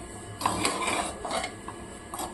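Cauliflower fried rice with spring onions and coriander leaves is stirred in a hot pan on a stove, giving a few soft scrapes and clinks of a utensil against the metal over about two seconds, close and fairly quiet.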